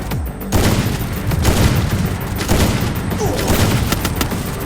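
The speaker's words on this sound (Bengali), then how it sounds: "সাইলেন্সার ছাড়া দেখো কি পরিমাণে ফায়ার দেয়" Unsilenced gunfire in the Free Fire mobile battle game: dense, continuous bursts of shots fill the whole stretch after a brief quiet opening, loud and close, with a faint voice underneath.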